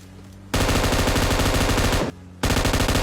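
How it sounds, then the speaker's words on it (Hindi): Loud, sustained automatic gunfire from the mobile battle royale game PUBG Mobile, in two long rapid bursts split by a brief pause. "एक और मारता हूँ शॉट, लेकिन पैर शॉट लग जाता है।"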